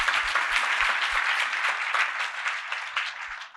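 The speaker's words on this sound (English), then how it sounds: "So a hand of applause again to all our winners." Audience at an awards ceremony applauding the winners, dense sustained clapping from a large crowd that stays loud before thinning slightly at the end.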